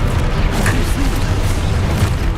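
A Confringo blasting spell goes off in Hogwarts Legacy as a short, dense booming burst, loud and close, with a rumbling low-end roar filling the whole moment.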